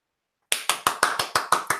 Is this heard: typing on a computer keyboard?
no